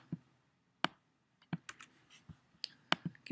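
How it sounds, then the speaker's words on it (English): A computer keyboard being typed on, heard as a sparse, uneven run of sharp keystroke clicks with short pauses between them. The clicks are close and fairly crisp, and no one talks. "I'm just having to type it in right."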